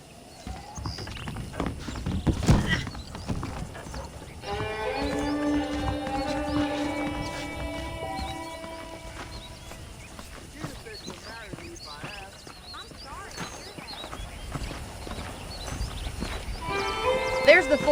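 Horse hooves clip-clop at a steady walking pace in the Red Dead Redemption video game, alongside ambient game sounds and a voice talking over them.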